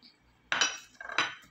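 Chicken being tossed with salt, garlic powder, seasoning powder and black pepper in a bowl for chicken bistek, giving two quick clinking, scraping bursts of utensil against the bowl, close and fairly quiet, with no talking.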